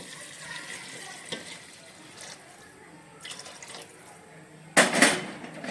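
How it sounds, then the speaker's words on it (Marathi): Hot water pours and splashes steadily into a pressure cooker, with a louder gush of liquid near the end, set against faint kitchen background noise. "मी हे गरम पाणी करून घेतलेलं आहे ते त्याच्यामध्ये मी टाकते"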